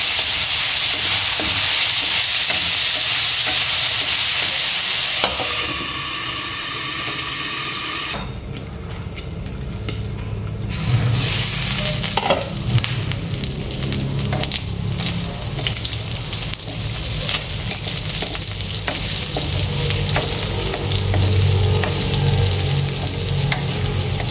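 Meat being stirred in a hot pan with seasoning, a steady close sizzle and frying hiss with scraping stir strokes throughout, briefly quieter midway before the sizzling resumes strongly.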